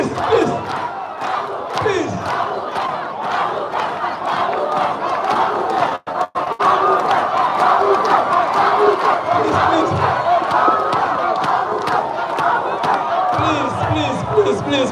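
Debate audience shouting and crowding forward in a loud, continuous clamour of many voices, with bursts of yelling and a few sharp knocks, filling the whole stretch and briefly dropping out near the middle.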